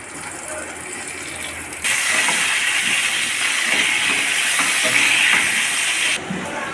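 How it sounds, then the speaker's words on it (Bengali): Potatoes frying in hot oil for Kashmiri aloo dum, a loud steady hiss that surges suddenly, holds for several seconds, then drops back to a quieter background. "এবার আলুগুলোকে ভেজে নিব।"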